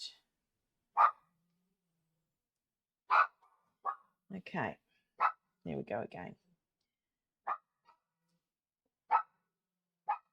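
A dog barks outside in short, separate outbursts at a distance, a few quick barks in a cluster, while a person speaks nearby between them.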